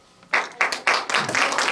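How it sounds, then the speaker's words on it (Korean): A crowd at a cultural center event applauds ahead of an accordion ensemble's performance: after a brief hush, a few distinct, loud claps ring out and quickly swell into fuller applause. "네, 큰 박수 부탁드리겠습니다."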